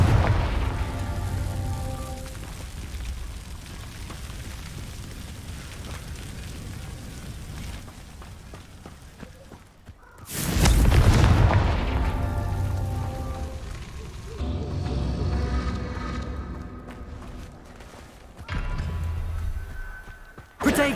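Confringo blast spells in Hogwarts Legacy go off as deep booming explosions, one big roaring burst midway that fades into rumble, amid a constant crackling, rain-like wash of game sound and spoken spell calls.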